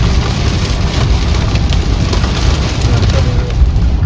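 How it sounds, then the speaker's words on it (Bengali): Heavy rain pours down in a blinding downpour near Pokhara, Nepal, a loud, constant close-up wash of drops drumming on surfaces with no break and no clear speech. "সামনে কিছু দেখাই যাচ্ছে না, এত জোর বৃষ্টি পড়ছে।"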